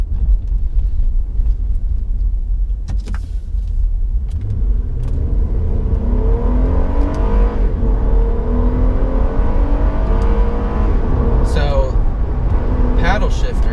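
A 2012 Acura TL 3.5L in sport mode builds revs from a steady rumble into a rising, climbing engine note as the car pulls away, loud and close from inside the cabin.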